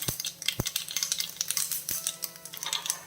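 Fenugreek seeds fry in oil over a low flame, giving a dense, steady crackle with quick clicks of stirring against the pan, close up and with no talk.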